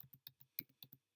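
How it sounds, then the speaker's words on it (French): Eight quick, crisp keystrokes tapped out on a computer keyboard while entering data into an Excel spreadsheet, close and isolated against silence. "vous voyez que je tape donc"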